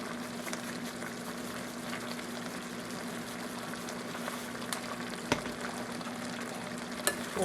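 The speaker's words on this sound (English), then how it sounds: "I'll mix it all around so it can be distributed throughout the meat." Seasoned meat for spaghetti sizzles in a pan while being stirred, a constant moderate frying hiss broken by occasional utensil taps and scrapes.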